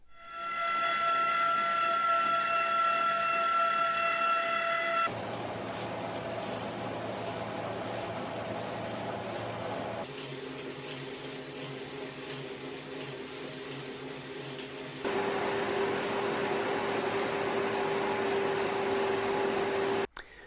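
An Elite Direto smart trainer's flywheel whirs continuously, a steady tonal hum that shifts pitch in blocks every few seconds as flywheel speed changes, moderately loud and heard alone.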